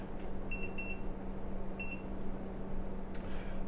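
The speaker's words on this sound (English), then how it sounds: "So let's set this timer for 15 minutes." A kitchen timer being set while cooking gives a few short, thin electronic beeps in quick pairs, fairly faint over a steady low hum, then a brief click near the end.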